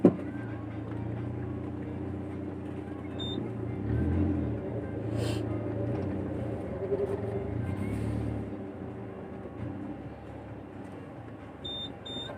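Car engine rumbling steadily while reversing slowly over a badly broken, potholed road, with a few short high beeps, likely the reversing alarm, and occasional scraping bumps under the drone.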